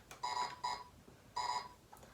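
A 1995 Toy Story Buzz Lightyear toy gives off faint electronic beeps. Three short bursts of bright, buzzy tone come in an uneven rhythm, quiet and slightly distant, with no talking over them.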